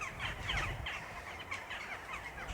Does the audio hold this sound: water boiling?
no